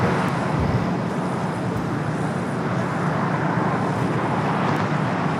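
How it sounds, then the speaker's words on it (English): Japan Airlines Boeing 787-9 Dreamliner taking off at Los Angeles airport, a broad steady jet engine roar heard from a distance, loud and unbroken with no voices. "Japan Airlines Flight 61 heading to Tokyo Narita. 787-9 Dreamliner up next for takeoff here on the south."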